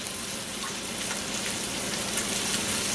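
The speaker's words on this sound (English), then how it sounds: "give it a good mix up. Zucchini, carrots, and that butter" Zucchini and carrots stir-fry in butter with a steady, close, even hiss and faint crackle, no voices.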